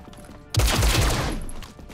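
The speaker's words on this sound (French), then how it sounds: "On me tire dessus, mais c'est mal visé." A burst of gunfire erupts in the video game XCOM: Chimera Squad, a loud rapid volley of several shots lasting about a second before fading into quieter game ambience.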